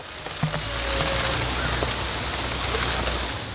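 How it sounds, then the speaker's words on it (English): A heavy rain shower starts outdoors, with patter building into a steady, loud hiss of drops on surfaces within the first second and then holding constant. "It is starting to rain already, quite hard"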